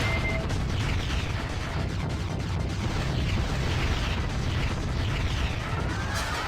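A bomb detonating in the shoot-'em-up Castle of Shikigami III: a sustained, roaring explosive blast, loud and continuous for several seconds, with crackling bursts layered through it.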